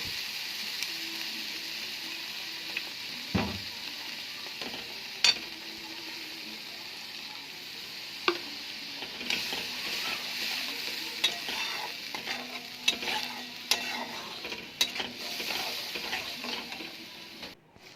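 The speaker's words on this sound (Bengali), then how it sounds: "বেটে রাখা মশলাটা দিয়ে দেবো, দিয়ে ভালোভাবে নেড়ে চেড়ে মিশিয়ে নেব" Ground mustard spice paste for shorshe ilish is stirred in a hot pan: a quiet continuous sizzle broken by repeated spatula scrapes and knocks, growing busier toward the end, with no voices.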